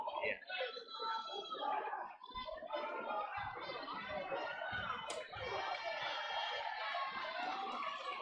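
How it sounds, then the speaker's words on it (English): A crowd at a boys high school basketball district semifinal cheering after a made free throw, a sustained roar of shouts and screams at moderate distance, with an announcer talking over it. "The crowd loves that one."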